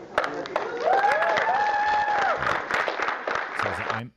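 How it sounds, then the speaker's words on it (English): A crowd applauding, a steady wash of clapping heard somewhat distant and moderately loud, with voices talking over it before it fades out at the end. "you hear the crowd applauding"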